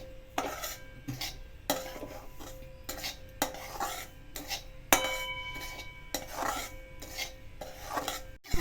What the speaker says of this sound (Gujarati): ઘીનું પ્રમાણ ઓછું રાખીને સોજી શેકવાની છે.